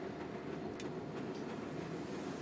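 A tram rolls along rails in the Black Mesa game, a continuous rumbling hum with faint clickety-clack wheel noise and a few brief higher metallic ticks, steady and moderately loud.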